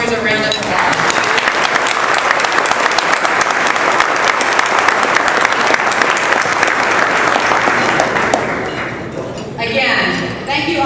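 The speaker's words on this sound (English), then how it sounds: "Please give these sponsors a round of applause." An audience at a police community awards event gives sustained, dense applause that fills the room at steady volume, then tapers off near the end.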